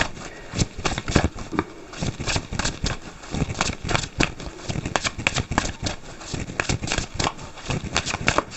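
Tarot cards are shuffled by hand in quick, irregular bursts of flicking and riffling, with soft slaps and rustles repeating close up.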